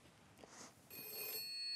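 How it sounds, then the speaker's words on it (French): An old French landline telephone rings faintly, its bell trilling in a bright metallic burst, quiet and distant, with no one speaking. "Sa sonnerie a résonné dans des millions de foyers français."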